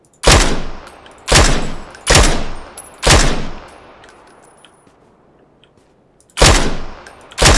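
Loud, close gunshots from the video game PUBG ring out as sharp single cracks, four in quick succession with pauses between, then a gap before a fifth shot.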